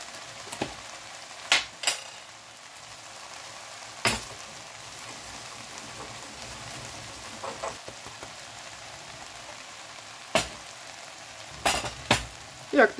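A large batch of onion sizzles and fries in a pan, with a steady soft crackle throughout and occasional louder clinks and scrapes of stirring.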